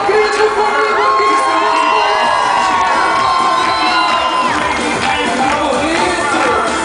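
A large crowd at an outdoor concert in Águas Boas, Oiã, Portugal shouts and cheers loudly and continuously, with whoops and high voices rising over a dense roar.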